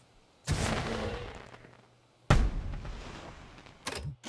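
Fireworks bursting in the video game Planet Coaster 2: two loud booming explosions with long crackling, fizzing decays, followed by a smaller pair of sharp pops near the end.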